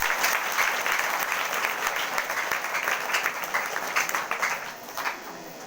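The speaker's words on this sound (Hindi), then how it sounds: "जोरदार ताली से प्रभु को धन्यवाद करें" Loud, steady applause fills a Sunday morning church service, a congregation clapping vigorously and continuously throughout, with no talk on top.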